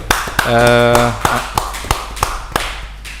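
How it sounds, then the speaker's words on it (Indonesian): A small group clapping at a Paskibraka gathering in Cirebon, with sharp separate claps at an uneven pace and a brief sustained tone early on. A voice speaks in between. "Luar biasa, kita kasih tepuk tangan dulu."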